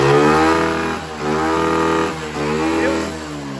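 A Honda CG 160 motorcycle engine runs noisily with a clogged filter, giving a loud droning hum with strong harmonics that swells and dips in three long surges, close by.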